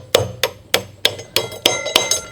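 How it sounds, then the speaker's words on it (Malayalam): A hammer strikes a wheel bolt on a tyre, driving it into place with eight sharp metallic blows at a steady, even rhythm, close and loud. "യാ ഇനി നമുക്ക് ഇതിൻ്റെ ബോൾട്ട് ഉള്ളോട്ട് അടിച്ച് കയറ്റണം."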